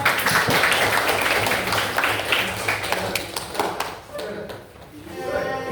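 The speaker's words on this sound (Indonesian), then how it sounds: "Ya, tepuk tangan ya." A classroom of students applauds in a dense burst mixed with chatter and voices, then thins out and quiets partway through.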